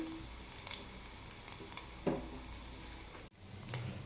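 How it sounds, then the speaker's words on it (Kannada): Cumin, mustard seeds, asafoetida and garlic paste tempering in ghee for rice khichdi, a faint steady sizzle with a few soft crackles and a brief clatter near the end. "ತುಪ್ಪ ಹಾಕ್ಕೊಂಡು ಜೀರಿಗೆ, ಸಾಸಿವೆ, ಹಿಂಗು, ಬೆಳಗಡ್ಡಿ ಪೇಸ್ಟು, ಅಲ್ಲ ಪೇಸ್ಟು ಹಾಕ್ಕೊಂಡಿದ್ದೀನಿ ನಾನಿಲ್ಲಿ"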